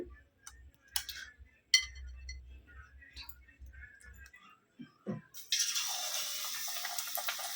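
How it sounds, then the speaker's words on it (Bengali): Besan-coated eggplant slices drop into hot oil after a few quiet clinks and taps, and a loud, bright sizzle bursts in and holds for the last couple of seconds. "এইভাবে ডুবিয়ে আমি বেসনটাকে তেলে ছাড়ছি"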